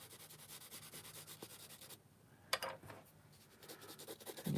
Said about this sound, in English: once you get the orbital eraser on it, or the putty kneading eraser on it,